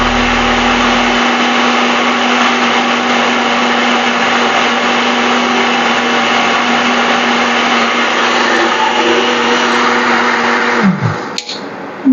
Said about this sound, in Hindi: अब हम इसको ग्राइंड कर रहे हैं, बस ये ग्राइंड हो जाएगी तो हमारी चटनी तैयार है।